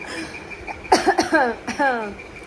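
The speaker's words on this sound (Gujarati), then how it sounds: "તો આ સૂકી ખાંસીએ તો મને હેરાન કરી નાખી છે." A short burst of dry coughs, two or three quick hacks close to the microphone, followed by a brief throaty vocal sound.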